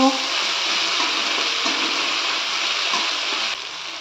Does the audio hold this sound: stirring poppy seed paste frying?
yes